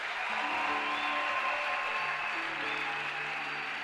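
Church congregation applauding and cheering in praise of Jesus during a sermon, a dense, steady wash of clapping with scattered voices sustained evenly throughout.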